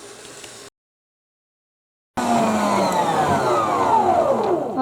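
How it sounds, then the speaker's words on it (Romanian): An electric hand mixer whips meringue at maximum speed, a loud, steady motor whine with rising and falling tones after a brief silence. "punem la mixat cu mixerul la viteză"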